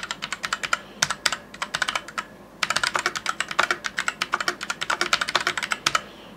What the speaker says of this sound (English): we're going to test the standard keys, like the QWERTY keys, to give you a rough idea.